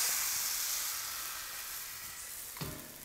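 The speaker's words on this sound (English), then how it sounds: "And in goes the batter, and then immediately swirl the pan like this." Buckwheat crepe batter sizzles in a greased non-stick pan. The hiss is loud at first and fades gradually, with a brief clink of the pan near the end. No one speaks.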